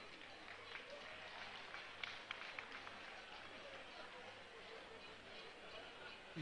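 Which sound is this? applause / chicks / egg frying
applause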